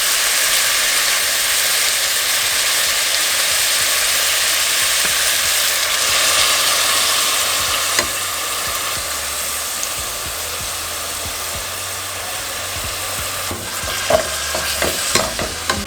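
Food sizzles loudly and continuously in a pan while being mixed, followed by a few sharp utensil clinks and scrapes near the end.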